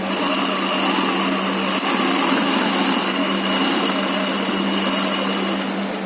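A sewing machine motor runs steadily while double-stitching a 1 cm seam on a pocketed pant, a continuous close whirring drone without pauses.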